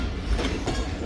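The Tezgam passenger train at Nawabshah railway station at night produces a loud rolling rumble with rhythmic wheel clatter over the rails in a short burst.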